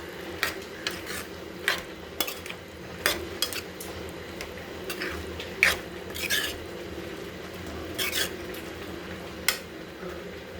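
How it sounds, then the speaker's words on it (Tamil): Boiled offal and chana dal being stirred together in a metal pan: a spoon scrapes and clinks against the pan at irregular intervals over a low, steady background hum. "குடலை போட்டுக்கலாம் வேக வச்சு எடுத்த கடலப்பருப்பையும் போட்டுக்கலாம் ரெண்டுத்தையும் ஒன்றோட ஒன்றா மிக்ஸ் பண்ணிக்கலாம்"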